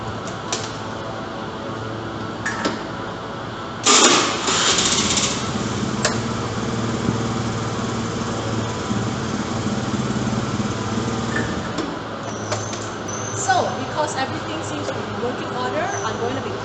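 A Honda Spacy scooter engine starts after a battery replacement and settles into a steady, buzzy small-engine idle close by, with a burst of revving at the start and light mechanical clicks later on.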